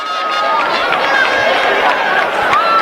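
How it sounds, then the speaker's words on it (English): Home crowd cheering loudly and continuously as runners reach the finish of an athletics race at the 2026 ASAC championships, a dense steady roar with whistles and shouts throughout. "The home crowd is cheering on Godfred."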